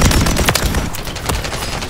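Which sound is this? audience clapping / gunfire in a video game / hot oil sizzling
gunfire in a video game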